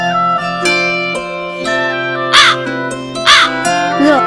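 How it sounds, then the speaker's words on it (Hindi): A crow caws in three loud, harsh bursts over sustained, steady tonal instrumental music, the calls standing out near and clear above the backing. "ये अब कौवा भी आ गया मुझे प्रोत्साहित कर रहा है ना."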